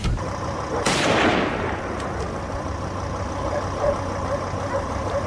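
A single loud gunshot cracks out during a wild boar hunt, its sharp report decaying into a steady outdoor background with a low engine-like rumble.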